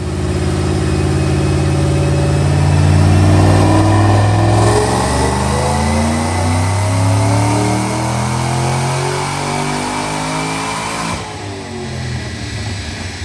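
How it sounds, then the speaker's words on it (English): A 2008 Saleen Mustang V8 with long tube headers revs hard on a dyno, climbing steadily in pitch under full throttle, then dropping off sharply near the end, with no voices. "Check out this dyno pull."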